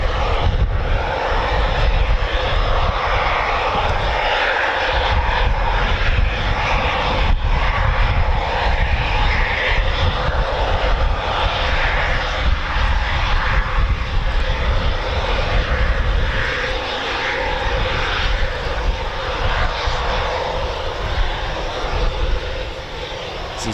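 A Eurofighter Typhoon FGR4 at RAF Coningsby makes an evening performance departure, its jet engine roaring loud and continuously with deep rumbling surges. The roar eases slightly toward the end, and there is no clear talk.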